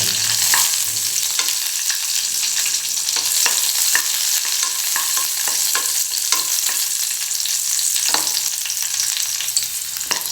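Raisins frying in a pan while cooking sweet pongal, a steady close sizzle with scattered crackles and occasional stirring scrapes, alone without any talk.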